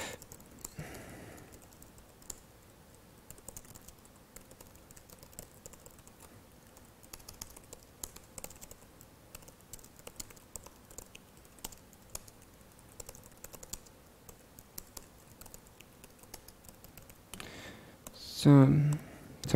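Code being typed on a computer keyboard during a Raspberry Pi remote development session, with rapid irregular key clicks at close range running throughout, faint and steady, joined by a brief louder rustle near the end.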